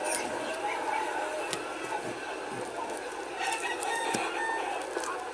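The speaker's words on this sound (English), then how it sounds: "Those chickens, man, they're noisy, right?" Chickens cluck continuously over a constant rushing background, with a few sharper calls standing out; the birds sound fairly close and noisy.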